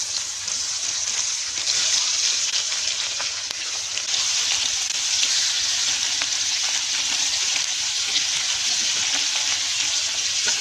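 Pangas fish frying in hot oil in a kadai in a village kitchen, a steady loud bright sizzle with crackling pops and occasional stirring scrapes, continuous throughout.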